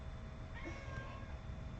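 A cat meows once indoors, a short, faint mew rising over a low steady background hum.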